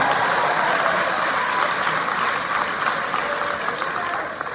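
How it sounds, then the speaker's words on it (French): A crowd at a palace gathering applauds for MTN, a dense, loud and sustained clatter that fills the space and tapers slightly near the end. "Est-ce qu'on peut applaudir pour MTN, s'il vous plaît?"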